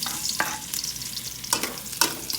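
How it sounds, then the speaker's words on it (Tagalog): Garlic sizzles and fries in an oiled pan, a steady close hiss broken by several scraping stirs of a utensil, with no voices. "manggigisa na tayo mga lods"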